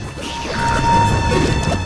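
A frozen enemy in Majora's Mask shatters with a loud, bright icy crash that swells and rings briefly before fading.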